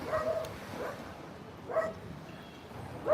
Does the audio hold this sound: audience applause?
no